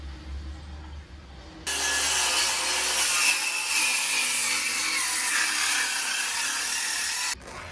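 A saw cuts scrap plywood to size for a bathroom vanity cabinet, a loud, continuous rasping cut lasting several seconds before it stops abruptly.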